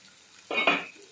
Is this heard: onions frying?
yes